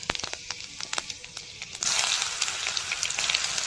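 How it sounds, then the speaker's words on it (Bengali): Five-spice seeds and chopped onion dropped into oil left from frying fish: scattered crackling pops first, then a sudden loud, continuous sizzle as the onion hits the pan, close up. "মাছ ভাজা তেলের মধ্যে 5 ফোড়ন আর পেঁয়াজ কুচি দিয়ে দেবো।"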